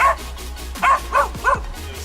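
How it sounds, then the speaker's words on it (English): A dog gives several short yipping barks and whimpers in quick succession over a low steady background hum, fairly close by, with brief pauses between the calls. "Barking stopped."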